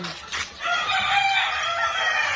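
A rooster crows on a game farm, one drawn-out call that follows a short cluck or two, fairly close and clear against quiet surroundings.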